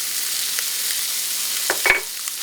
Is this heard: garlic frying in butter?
yes